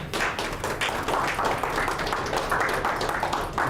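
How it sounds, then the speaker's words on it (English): An audience at a talk on anti-Semitism applauds guest Jonathan Greenberg, a full, continuous patter of many hands clapping at steady loudness throughout, close and unaccompanied by speech. "A round of applause for Jonathan Greenberg."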